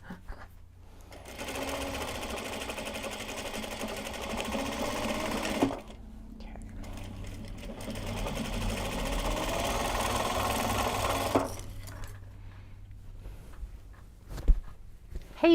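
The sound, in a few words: sewing machine stitching bags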